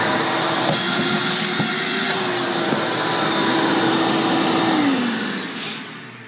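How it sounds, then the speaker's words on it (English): A vacuum cleaner runs steadily close by while debris is cleared from a floor cutout in a van build, its motor whine droning evenly before sliding down in pitch as it is switched off. "Vacuum."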